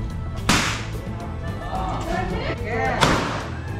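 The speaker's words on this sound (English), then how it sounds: "Jacob's Glock is loud." Two loud, sharp Glock pistol shots crack about two and a half seconds apart at a shooting range in Thailand, with people talking in between.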